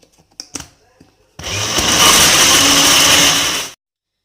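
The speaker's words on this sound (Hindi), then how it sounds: "आइस क्यूब डालेंगे और एक दफ़ा फिर हम ब्लेंड करेंगे इसको।" A blender whirs loudly for about two seconds, blending a pink energy drink with ice cubes, after a few clicks and knocks of setup.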